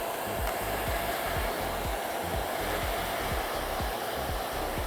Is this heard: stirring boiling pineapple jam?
no